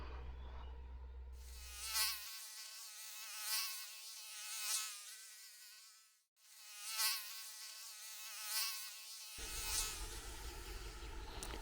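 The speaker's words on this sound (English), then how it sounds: "That is a mosquito. There are millions of them everywhere." A swarm of mosquitoes whines in a thin, high, continuous buzz that swells and fades several times as the insects drift near the listener, with no talking.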